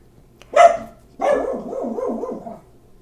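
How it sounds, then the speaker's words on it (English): A dog barks in the background, one sharp bark followed by a longer warbling, whining howl, fairly close and alone with no talk over it. "And that's my dog in the background."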